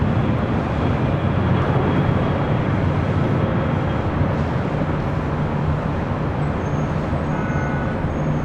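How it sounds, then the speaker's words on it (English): An airliner taking off from the south side of LAX, bound for SFO, produces a loud, continuous broadband roar that holds steady throughout. "Taking off on the south side. Flight heading to SFO."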